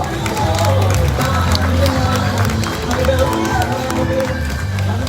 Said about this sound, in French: Et c'est parfait aussi pour Nell, on peut les applaudir bien fort.